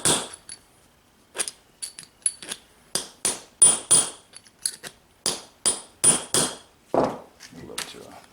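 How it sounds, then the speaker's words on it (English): Someone hammers out the wheel bearing on a Honda 300TRX FourTrax ATV, sharp metallic strikes in irregular clusters of two or three, loud and close, with short pauses between and faint rustling near the end. "we'll see what we can do to knock this bearing out"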